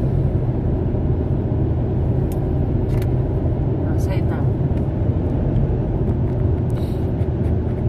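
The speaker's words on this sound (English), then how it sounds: "Big tyres wobbling." A running car's cabin on the road, with a steady loud low rumble and road noise throughout as its big tyres wobble, and faint sparse knocks on top.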